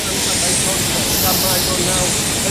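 Steady, loud broadband roar of a TAAG Angola Airlines Boeing 737-700 jet engine at close range, continuous and unbroken with no distinct talk.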